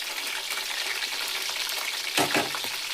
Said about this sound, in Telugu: ఈ ఆనియన్స్ ముక్కలు బాగా బ్రౌన్ కలర్ వచ్చేంత వరకు ఫ్రై చేయాలండి.